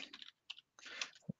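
Computer keyboard typing, quiet bursts of soft key clicks in short irregular runs with brief pauses, close by and alone.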